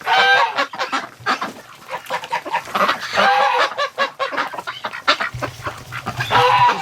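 Ducks and geese wintering outdoors in cold wind and snow keep up a loud, continuous chorus of quacks and honks close by, the calls overlapping densely throughout.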